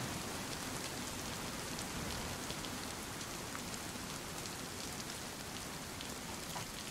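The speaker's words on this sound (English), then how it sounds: "Looks like the rain is slowing up." Steady rain pours down in the video game The Last OutBreak, a dense, even hiss of drops on surfaces that runs unbroken at moderate level with no voices over it.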